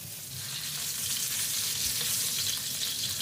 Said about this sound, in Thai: ผัดหมูสับ ให้สุกกันก่อนเลยครับ